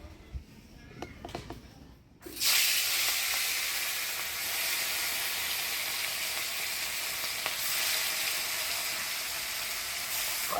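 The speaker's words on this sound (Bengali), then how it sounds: "এবারে মাছ ভাজা বসাই দিব কড়াই গরম হয়ে গেছে দিয়ে দিলাম তেল" Oil poured into a hot wok before frying fish gives a sudden loud hiss that settles into a steady, close sizzle, after a couple of seconds of quieter kitchen sounds.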